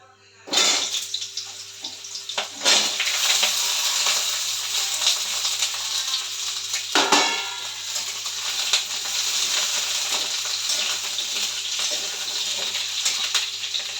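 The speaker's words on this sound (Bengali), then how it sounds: "এই যে দেখো আমি আলু পটল দিয়ে দিয়েছি তেলের মধ্যে।" Potatoes and pointed gourd frying in hot oil after cumin tempering, a steady bright sizzle running continuously close up, with a few louder bursts of spitting.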